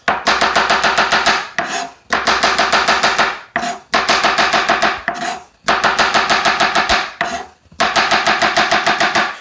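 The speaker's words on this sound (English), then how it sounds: "So take the stems off if you want and then just slice them up." Knife slicing through mushrooms on a cutting board, with stems removed beforehand: rapid, evenly spaced chopping taps in four bursts separated by short pauses, close and loud with no talking.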